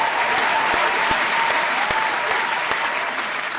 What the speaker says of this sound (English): We need a round of applause.